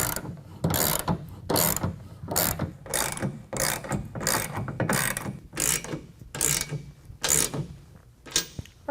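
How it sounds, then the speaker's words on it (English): A ratchet wrench tightens bolts on a Backrack SRL headache rack fitted to a 2020 Ram 2500, giving repeated close clicking bursts in a steady back-and-forth rhythm. "we can go ahead and tighten down all of our hardware"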